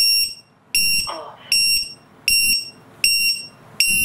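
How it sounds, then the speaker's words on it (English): A Matek lost model alarm buzzer beeps shrilly in a steady repeating pattern, loud and close, about six sharp pulses separated by brief pauses. "That's why you have a buzzer attached to your model. Imagine that obnoxious noise in the middle of this field."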